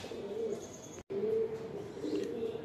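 A pair of pure Punjabi Malwai pigeons cooing softly at close range, low rolling coos repeating over a faint room background, broken once by a brief silence.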